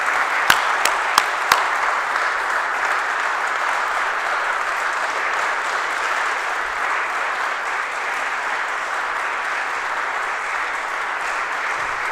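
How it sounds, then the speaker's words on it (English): An audience at a peace action education event applauds a speaker, with dense continuous clapping from a crowd that holds steady throughout, preceded by a few sharp individual claps. "So if we could just give a round of applause for John Deere."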